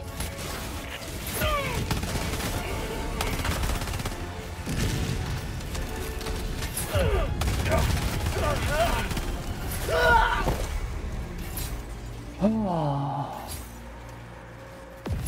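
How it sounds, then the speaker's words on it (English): An orbital strike bombardment in Helldivers 2 hits as a series of heavy booming blasts and crashes, loud and rumbling, with gunfire, voices and game sounds around it. "Firing orbital strike."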